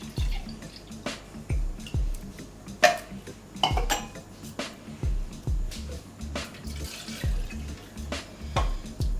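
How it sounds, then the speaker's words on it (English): Fruit punch is poured into a glass for homemade Jamaican rum punch, with liquid trickling amid repeated clinks and knocks of glassware and utensils, close and fairly loud, without talk. "Half cup of fruit punch."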